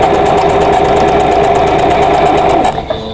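A sewing machine with a 1/4 inch presser foot runs steadily and fast, chain piecing quilt fabric pieces, a loud continuous mechanical whir that slows and stops near the end.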